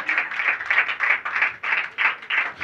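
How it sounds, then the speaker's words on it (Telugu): A church congregation at a pastor's sermon claps together in a steady rhythm, about three claps per second, with roughly eight strong beats. "చప్పట్లు కొట్ట"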